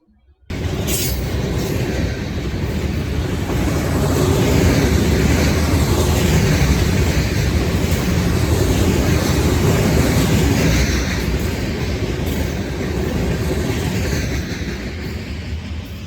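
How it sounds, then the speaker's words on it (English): A long local CSX freight train hauling rock cars rumbles past close by in rural South Carolina, a steady, loud roar of wheels and cars with faint squeals, continuing without a break and with no talking. "More action happening around this beast of a train."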